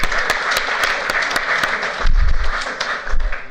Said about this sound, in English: Let's give a big round of applause to Ms.